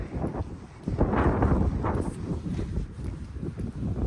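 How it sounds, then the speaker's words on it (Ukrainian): Gusty winter sea wind in Palanga, Lithuania, with occasional snow, buffets the microphone in low rumbling bursts, rising and falling continuously, with faint outdoor rustling and no voices. "На вулиці вітер, інколи сніг, морозу нема."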